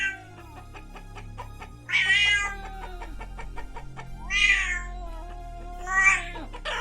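A cartoonish video-game cat meows three times in loud, drawn-out cries over steady synthesized background music, the calls clear and close, each rising then falling.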